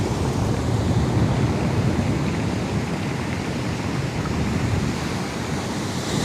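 Huge seven-metre sea waves from Cyclone Harry pounding the coast of Sicily, a loud continuous roar of surf mixed with heavy wind buffeting, steady and close throughout.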